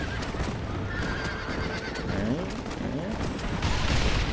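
Horses neighing and whinnying amid clip-clop hooves and distant gunfire in the Xbox 360 game Red Dead Redemption, loud and busy, with a voice talking over the scene.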